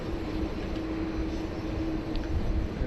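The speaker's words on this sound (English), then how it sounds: "our next and second last arrival of the stream is China Southern 5047 from Shenzhen, A330 300 on a cargo only service" A China Southern Airbus A330-300 cargo flight arrives at Sydney Airport, heard as a steady, distant jet roar with a low rumble and a faint engine whine, no voices.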